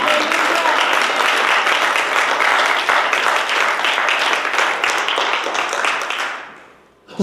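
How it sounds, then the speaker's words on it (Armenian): A church congregation applauding loudly and steadily, a dense wash of many hands clapping at once that fades out near the end and gives way to a voice. "տուր Աստծուն բարձր ծափահարություն"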